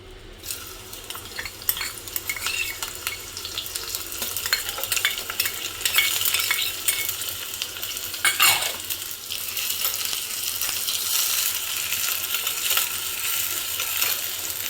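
Chopped shallots sizzle and fry in a pan for a Kerala-style mackerel curry, a steady close crackle with occasional scraping stirs and metallic clinks, with no talk.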